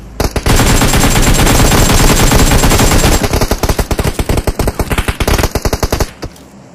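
Automatic gunfire in the mobile battle royale game PUBG Mobile: a loud, dense sustained burst, then rapid individually spaced shots in a fast rhythm, cutting off near the end, close and alone.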